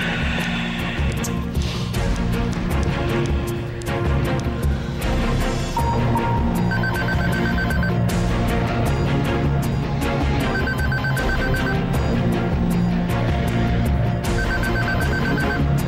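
A landline telephone ringing as a call goes through, repeated bursts of bell-like rings in a steady pattern, loud and close over continuous background sound.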